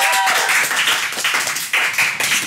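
Audience clapping at an Indonesian comedy talk show, a scattered burst of hand claps from a studio crowd, fairly loud and continuous for a couple of seconds with no talk over it.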